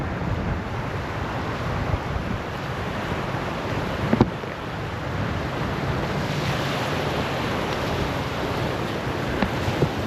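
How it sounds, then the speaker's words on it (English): River rapids rush steadily beneath a dinghy catamaran, a broad continuous roar of churning water mixed with wind buffeting the microphone and a few faint knocks. "So there's the next rapids"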